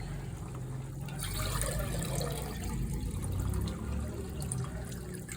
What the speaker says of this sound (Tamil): இப்போ வந்து அதுக்கு மூணு படி தண்ணி ஊற்றணும்